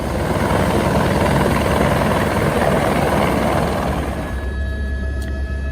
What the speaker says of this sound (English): Then 6 of us piled into the A-Star for the flight to Kathmandu.